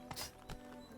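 The horse Roach gallops in The Witcher 3 video game: a brief run of four or five sharp hoof clops, fairly close and quick, with no speech over them.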